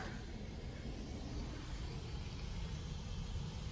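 Interior drone of an Audi Q7 hire car on the move in Los Angeles: a steady low engine and road rumble with broad tire hiss, constant level throughout, no voices.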